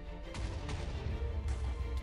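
A rumbling video game explosion with booming low end and crackling debris, sustained and fairly loud, no talking.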